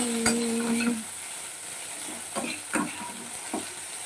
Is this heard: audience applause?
no